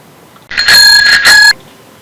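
A bicycle bell rings twice in quick succession, bright and close, each ring lasting about half a second and standing alone with no talk.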